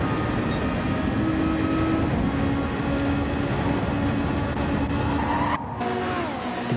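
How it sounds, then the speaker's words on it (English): Race car sliding and skidding on the track in a Formula X racing video game, a steady loud engine roar with continuous tire scrub throughout and a brief dip near the end. "You can hear the car sliding behind him."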